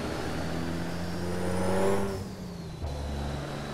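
A truck engine in American Truck Simulator with the Kriechbaum sound pack hums steadily, rising in pitch as it revs, then drops and settles into a lower drone, heard from outside during a left turn, no talking.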